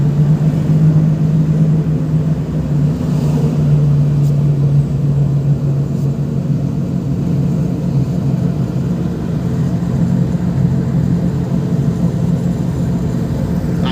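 A car engine runs steadily during a driving lesson, a constant low droning hum heard from inside the cabin, with no distinct gear-change sound standing out.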